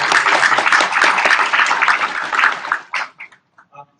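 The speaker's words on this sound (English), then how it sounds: "Another round of applause for your Tampa." An audience at a Tampa Bay transportation event applauds in a dense, loud burst of clapping that lasts almost three seconds, then breaks off into a few scattered claps and small noises.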